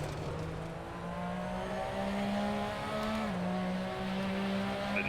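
A Porsche 911 RSR race car engine in a racing game with a sound mod installed drones at steady revs, a continuous loud tonal hum that shifts pitch slightly, with no voices over it.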